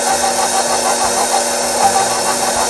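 An electric mixer creams butter and brown sugar in a bowl, giving a steady, close motor whir with a constant hum.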